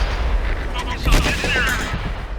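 A tank gun firing a shot in World of Tanks, a Skoda TVP 50/51, booming sharply once amid the game's steady ambient noise, with a short rumbling tail afterward.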